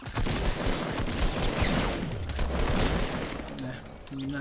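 Rapid gunfire crackles through a video game firefight in dense, continuous bursts, with a voice mixed in underneath.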